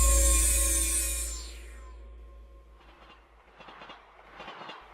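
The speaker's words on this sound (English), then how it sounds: "The carriage rocked side to side on the rails as I grappled with my recollections." A train carriage rocking along the rails. A loud rumbling roar with a high squeal fades over the first two seconds, then quieter rhythmic clacks and knocks of the wheels and car follow.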